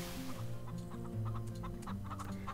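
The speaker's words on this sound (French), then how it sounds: "Ici, on a donc un grand enclos de poulets." Chickens cluck in a large pen in the farming game Farm Together, several birds murmuring and clucking in overlapping bursts at close range, steady and moderately loud.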